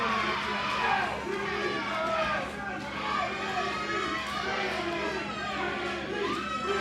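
A wrestling crowd at a nine-person tag match shouts and cheers in sustained waves, loud chanting voices filling the arena for the whole stretch.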